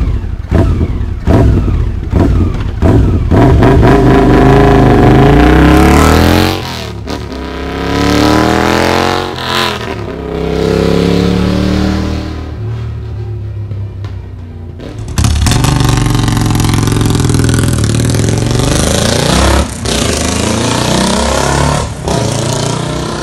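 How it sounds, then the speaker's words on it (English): A motorcycle with a pea shooter exhaust revs hard with sharp, popping exhaust blips, rising and falling through several throttle bursts before settling into a loud, steady idle. "The exhaust sound on each one of these motorcycles is obviously different."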